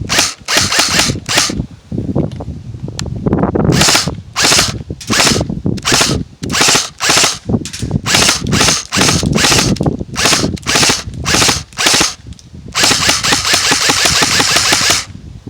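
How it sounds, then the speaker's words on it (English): Airsoft AEG electric gun firing fully automatic bursts with a mid-cap magazine, loud repeated rapid clattering strings broken by short pauses, ending in a longer sustained burst. "AEG fully automatic with a mid cap"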